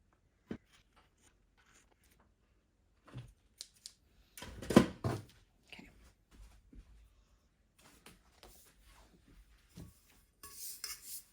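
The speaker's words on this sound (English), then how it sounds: "I'm going to cut that off with scissors." Sparse snipping and rustling close by as scissors cut vinyl, with a longer burst of cutting in the middle and scattered handling noises around it.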